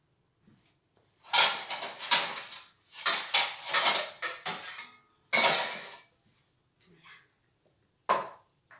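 Steel plates clink and clatter as they are handled in a home kitchen, with bursts of metallic rattling and scraping close by separated by short quiet gaps, plus a few bumps like drawers or cupboards.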